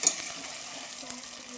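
A tomato mixture for tomato bath cooks in a pan with a steady, soft sizzle and faint stirring scrapes. It continues without a break for under two seconds.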